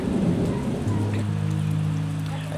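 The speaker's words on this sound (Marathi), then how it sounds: "आता बसलोय पावसाचा आनंद घेत आणि भरपूर विजा चमकत आहेत" Rain falls steadily during a thunderstorm in a village, a dense wash of rainfall with low rumbling beneath and a faint steady tone in the background.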